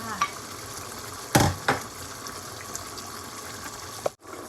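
Beef panang curry sizzles steadily in a hot pan with sliced red chillies and kaffir lime leaves, with a couple of sharp scraping stirs from a utensil partway through.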